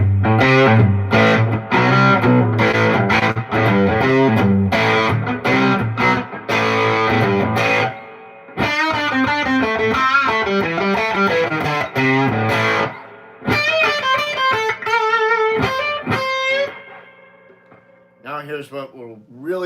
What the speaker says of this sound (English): This is just the amp. There's no effects going on here except for reverb, which is inside the amp.